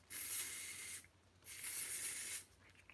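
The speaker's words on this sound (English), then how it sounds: "I've got some Charlie Pink body spray." Charlie Pink body spray from an aerosol can, two long close bursts of loud hissing spray, each about a second long, separated by a short pause.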